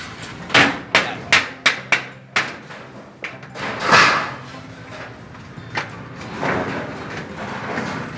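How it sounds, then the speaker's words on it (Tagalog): Six sharp metallic hammer taps on an inside roof gutter being fitted in a tight space, in a quick, even series, then a few scattered knocks and clattering against a noisy background. "Katok, tik-tik-tikin mo na martilyo."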